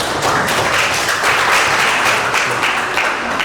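Applause from an audience in a classroom, a short burst of dense clapping that stays even and fairly close throughout.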